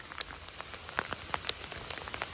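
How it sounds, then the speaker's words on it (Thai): Steady rain pattering on a surface outdoors, with scattered louder drops standing out against a constant wash of falling water, close and moderately loud with no talking. "ฝนตกอีกแล้วพี่น้องเอ้ยตากฝนอีกแล้ว"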